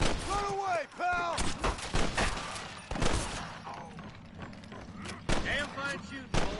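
Gunfire in a Red Dead Redemption shootout, loud repeated shots and bursts mixed with shouting voices and other game effects throughout.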